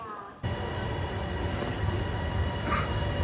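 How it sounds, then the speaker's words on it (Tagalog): A train rumbles at a station platform in Thailand, a low continuous rolling roar under a hiss, with faint squeals and a voice murmuring in the background. "nag-aabang na lang kami ng tren"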